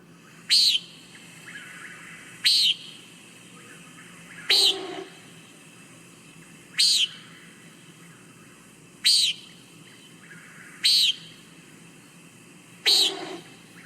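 Seven sharp, buzzy nasal "preent" calls of a common nighthawk repeat every couple of seconds against a quiet outdoor background, fairly clear and alone.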